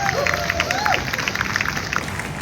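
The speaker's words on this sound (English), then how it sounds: "Big round of applause." An audience at a Disney Springs Q&A event claps steadily in a dense, even wash of applause, with a high whistle rising briefly above the crowd near the start.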